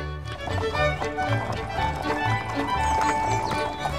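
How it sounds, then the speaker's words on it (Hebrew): Hooves of two horses pulling a carriage clip-clop in a steady rhythm, with carriage wheels rolling over the road in Prague's Old Town square, close and continuous, with a voice talking over it. "נקישות הסוסים וגלגלי הכרכרה על הדרך מוסיפים את ההרגשה שחזרת בזמן"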